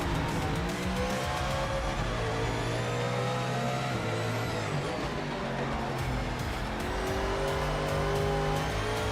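A Ford Mustang oversteering in the Project Motor Racing simulator gives a steady, loud engine drone with tires squealing on and off throughout.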